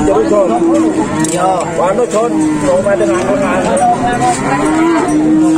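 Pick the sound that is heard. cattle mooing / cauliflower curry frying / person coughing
cattle mooing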